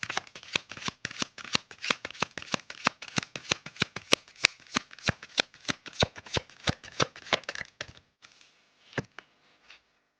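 Tarot cards shuffled in a rapid, steady run of crisp riffling snaps for about eight seconds, then a few scattered taps and a last single card flick, close and alone with no talk.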